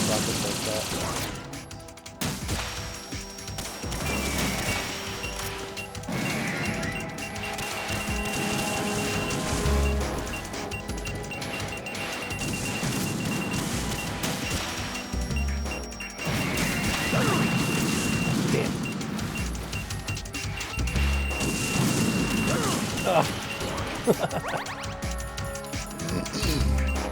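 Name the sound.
rockets firing in video game Metal Gear Solid 2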